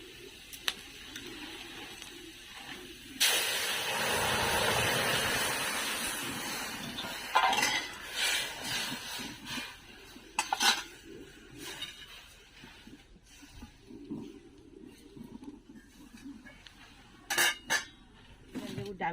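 Lentils tipped into a pan of fried onion for a Bengali gondhoraj lemon dal, followed by a short rushing pour and then scattered clinks and scrapes of a spoon stirring against the metal pan.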